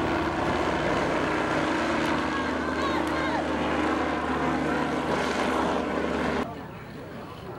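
A Bangka Belitung regional police helicopter flies overhead during a patrol in Bangka Regency, giving a loud, steady rotor and engine drone that holds evenly for most of the clip, then drops sharply and thins out near the end.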